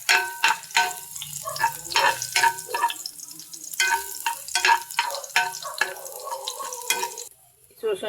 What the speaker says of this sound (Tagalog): Magigisa na po ako ng sibuyas at bawang